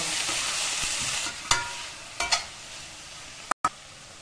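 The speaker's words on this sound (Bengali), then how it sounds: "এবার আমি তিলগুলো 3 থেকে 4 মিনিট নাড়ব।" White sesame seeds fry in a pan with a steady, close sizzle. Scraping stir strokes and a couple of sharper clatters rise above it, and no voices are heard.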